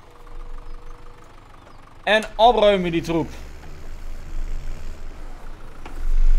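A tractor engine driving through snow in Farming Simulator 17 hums low and steady throughout, swelling louder near the end, with someone speaking briefly over it.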